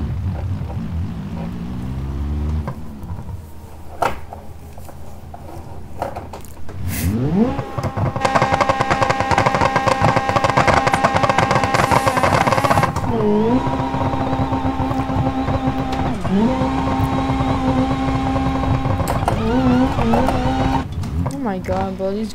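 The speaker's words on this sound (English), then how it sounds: "Now, how the VTech kicks in first person." A Honda Civic engine builds from idle into a loud, rising rev, surging as VTEC engages and then holding high with repeated shifts and dips. Heard up close from inside the car, with people talking over it.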